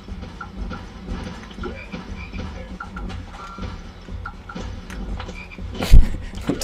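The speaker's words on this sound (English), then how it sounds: "Badly animated frogs." Frogs croak repeatedly in the video game Zombie Holiday, with overlapping calls over a busy game soundtrack and a louder thump near the end.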